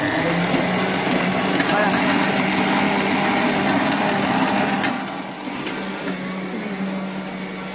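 A food processor kneads pizza dough at higher speed, its loud motor whirring steadily before dropping to a lower, quieter hum partway through, with a brief spoken word over it.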